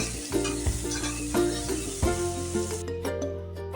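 Fresh green peas sautéing in oil on a medium flame, a close, steady sizzle and fry broken by repeated stirring scrapes of a spoon against the pan, with no talk.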